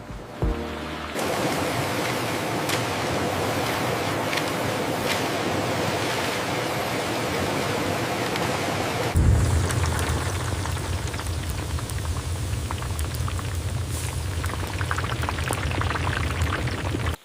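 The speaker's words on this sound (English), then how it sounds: "the pale slices hit the hot oil, beginning their transformation into crispy chips" Pale banana slices drop into hot oil at a banana chip factory, bursting into a dense, loud hiss that swells sharply partway through as more slices hit the oil, then continues as a steady frying crackle.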